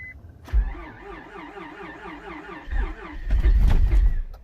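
A 2005-era Honda car makes a cold start in a Minnesota winter: the starter cranks with a wavering, whining rhythm before the engine catches with a loud, rough rumble near the microphone.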